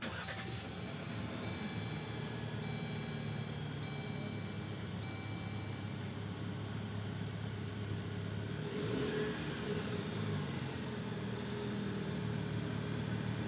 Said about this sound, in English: To start it up, as long as the key's inside the vehicle, put your foot on the brake, hold it,